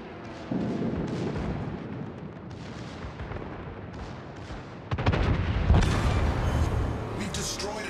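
Booming naval artillery fire and explosions roar through a video game sea battle between warships, a dense rumbling barrage that swells louder and harsher halfway through.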